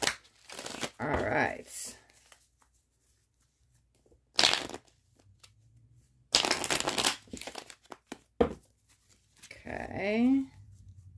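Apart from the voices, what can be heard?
shuffling tarot cards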